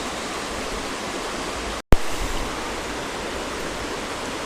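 Steady broadband rush of creek water flowing, loud and close, interrupted by a sudden brief dropout and a sharp knock before the constant flow resumes.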